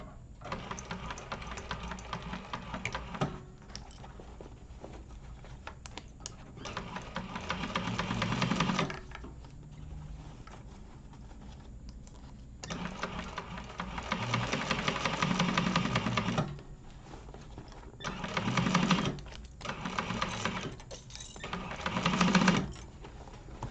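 A sewing machine stitching across the bottom of a Zynah bag at 4.5 stitch length, running in several rapid bursts of varying length separated by pauses and quiet handling noises.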